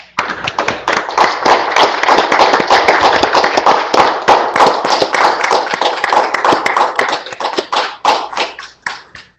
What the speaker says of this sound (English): please give Mrs. Oliver a round of applause.